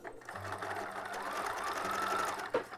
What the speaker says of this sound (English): I'm going to go along that very edge of this with a nice wide zigzag